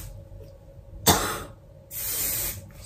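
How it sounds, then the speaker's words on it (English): Hairspray hisses from an aerosol can onto heatless curls in two bursts, a short sharp spray followed by a longer steady hiss about a second later, close and fairly loud against a quiet room. "I'm gonna spray these and hope that they actually stay in this one."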